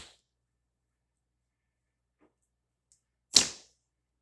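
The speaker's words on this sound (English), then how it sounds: "I'm just going to let you hear the sound of this bow as I pull it and let it go" An RXD Dual short training bow is drawn and released, giving one sharp, close twang-and-slap with faint handling noise before it and near-silence around it.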